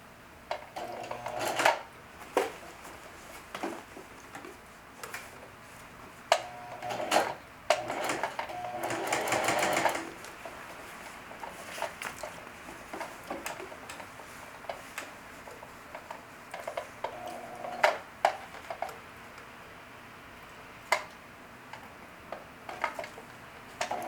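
A sewing machine stitches denim-style pocket work in short, irregular bursts of rapid ticking, pausing between runs, with occasional clicks and handling sounds and no talking.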